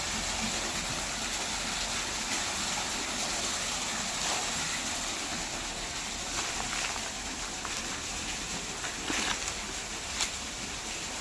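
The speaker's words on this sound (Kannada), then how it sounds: "ನೀರು ನಮ್ಮ ಬಾವಿಗೆ ಡಂಪ್ ಮಾಡ್ತಿದ್ದೇವೆ" Water from a compressor pump gushes into a farm well in a steady, loud rushing wash that runs unbroken for the whole stretch, with no voices.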